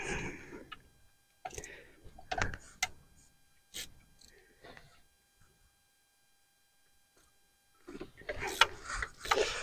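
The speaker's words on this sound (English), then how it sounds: "I'm gonna break all these bolts loose by hand instead of using the electric ratchet." Hand ratchet breaking engine bolts loose on a seized 2008 Volkswagen GTI, quick bursts of close clicking and metallic ticks separated by pauses, with a quiet stretch before a final flurry.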